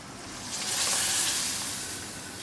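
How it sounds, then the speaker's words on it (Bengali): Khichuri tipped into hot tempering (bagar) in a pan bursts into a loud sizzle that swells within the first second, peaks, then eases into a steady hiss of frying. "এই যে এটা আমি বাটি দিয়ে খিচুড়িটা আর কি করতেছি, বাগারের মধ্যে দিলাম।"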